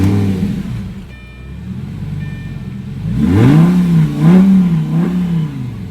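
A 2006 Lamborghini Gallardo with a modified exhaust cranks and fires up, then revs loudly in a couple of rising and falling bursts, close and dominant.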